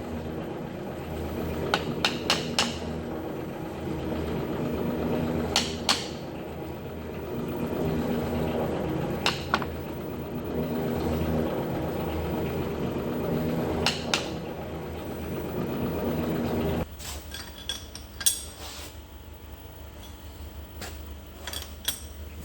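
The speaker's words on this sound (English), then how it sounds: "So you can see we've got to just tap our vise over" Someone taps a vise over on a Dean Smith & Grace 4BN lathe. A few sharp metallic knocks come several seconds apart over a low, steady machine hum, which drops off near the end.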